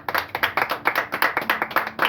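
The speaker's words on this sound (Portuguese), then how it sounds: "Palmas para Jesus." Congregation claps hands in a quick, even rhythm, loud and close, roughly eight to nine claps per second sustained for about two seconds.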